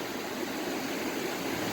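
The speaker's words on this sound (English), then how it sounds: "So he's got the water hitting it, and I've got the water rolling over it and around it" Water rushes steadily over and around a large piece of bedrock in a stream during gold prospecting, a close, continuous broadband flow with no talking.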